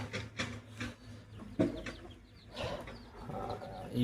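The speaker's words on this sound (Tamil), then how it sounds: "இந்த கோழி இங்கே இருக்குன்னா அதில் கொஞ்சம் பயப்படுது" Soft, quiet clucking from a chicken, several short calls spread out, heard faintly with some background noise.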